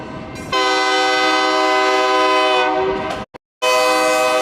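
A train hauling Boeing aircraft fuselages sounds a loud, sustained harmonic horn blast lasting about three seconds, then cuts off briefly before a second blast starts, close and dominant with no talk.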